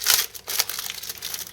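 A clear plastic sheet from a Star Trek shuttle model kit is handled, giving a short bout of close crinkling and rustling with a few sharper crackles.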